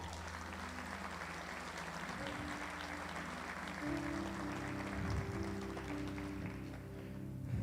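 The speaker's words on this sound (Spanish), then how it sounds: "Dale un aplauso al Señor" A church congregation applauds in a steady, fairly quiet wash of clapping, with sustained keyboard chords playing throughout.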